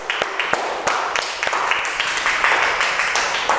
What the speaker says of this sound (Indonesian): Kita beri tepuk tangan dulu hasil dari diskusinya.